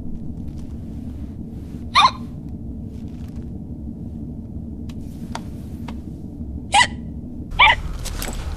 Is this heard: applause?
no